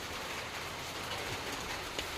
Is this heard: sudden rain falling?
yes